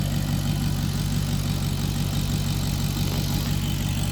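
Maserati Quattroporte Sport GTS with its Ferrari-developed engine idling close by, a steady low rumble with a smooth, even burble that holds constant throughout.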